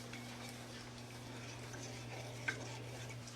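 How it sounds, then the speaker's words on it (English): A utensil stirs a sauce with cayenne pepper for garlic-ginger-sherry Chinese chicken wings, a soft steady scraping with one brief clink near the end over a low electrical hum. "We'll stir that all up."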